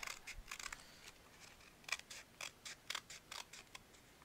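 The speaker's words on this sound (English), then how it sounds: "I'm just going to cut out this" Scissors cut out a paper centre piece for a scrapbook page, a steady series of quiet crisp snips repeating about every half second, close and alone.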